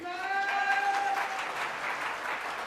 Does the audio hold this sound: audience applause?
yes